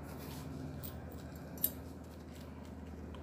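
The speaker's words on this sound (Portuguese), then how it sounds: "Aí eu vou cortar ele mais ou menos aqui." A part for a homemade breech system being cut, a single sharp snip over a steady low background hum, close but faint.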